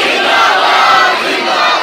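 A large crowd roars a religious slogan in unison at a gathering, a loud, dense wall of massed voices held steadily throughout without a break.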